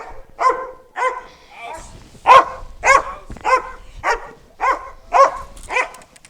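A dog named Major barks reactively on a leash, with about a dozen sharp, loud barks in an uneven rapid series, close by with little else around.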